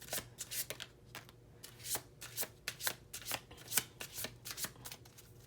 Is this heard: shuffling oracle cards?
yes